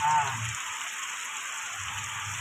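Steady heavy monsoon rain in the Konkan hisses throughout, a constant wash of falling water beating on vegetable plants, with a low rumble at the start and end.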